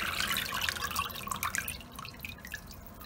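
Water drips and trickles from a strainer of raw chicken breasts just rinsed under room-temperature tap water, a steady close patter of droplets with no voices.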